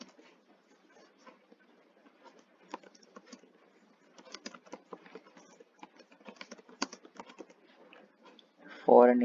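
Code is typed on a computer keyboard: a run of close, irregular key clicks and taps in quick bursts and pauses, with a voice briefly starting at the very end.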